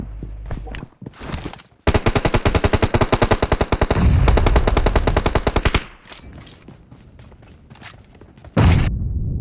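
Loud, close automatic gunfire from PUBG Mobile rattles in one long rapid burst. Scattered shots and thuds come before and after it.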